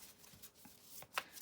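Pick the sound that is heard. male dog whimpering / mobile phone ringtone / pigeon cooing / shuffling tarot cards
shuffling tarot cards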